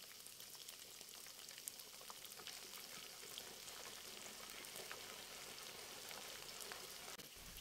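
Beef with sweet soy sauce sizzling in a pan, a soft, steady frying crackle with faint occasional scrapes of stirring, heard alone and fairly quiet throughout.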